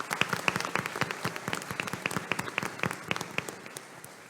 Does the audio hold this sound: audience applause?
yes